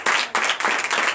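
A church congregation claps and applauds together at a Sunday worship service in Comè, Benin, a steady, dense wall of clapping with slight swells over about a second.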